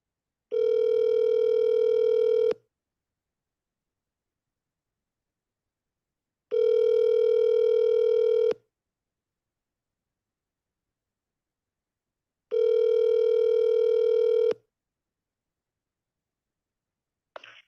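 An office telephone line rings back three times, each ring a steady two-second electronic tone followed by four seconds of silence, loud and clear with no talk.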